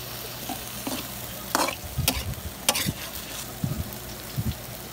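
Chayote sizzles and sautés in a pan, with intermittent scraping and clinking as a utensil stirs it, close and moderately loud.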